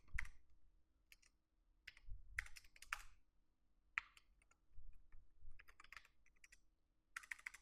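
Typing HTML code on a computer keyboard, with short bursts of crisp key clicks separated by brief pauses in an irregular rhythm, close and clear with no talking.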